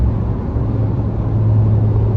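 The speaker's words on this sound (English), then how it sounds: "Yeah, it's a Ram 3500." A Ram 3500 pickup truck drives close by, a loud, steady low engine rumble holding for the whole stretch with no voices on top.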